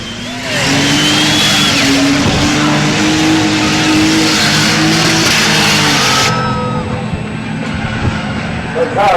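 A 1989 Nissan Safiro drifts around a race track, its engine revving loudly with tire squeal and skidding, close and sustained, with a voice talking over it.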